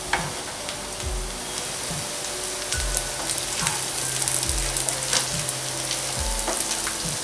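Diced potatoes with spices sizzle steadily in a pan for achari aloo, a dense continuous crackle with low knocks of stirring recurring every second or so, close and alone.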